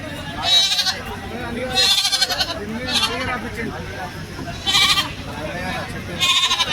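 Several goats bleat in repeated loud bursts, a few seconds apart, over a constant background of livestock noise at a Sunday livestock market in Chilpur Gutta.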